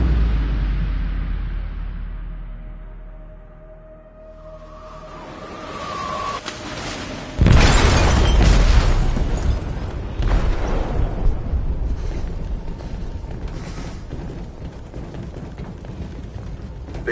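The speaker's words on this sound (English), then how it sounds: "They detonated an explosive in the hold." A loud explosion from an explosive detonated in a ship's hold in the game Detroit: Become Human hits suddenly after a quiet, tense lead-in, then gives way to a long, heavy rumble with scattered crashes and bursts.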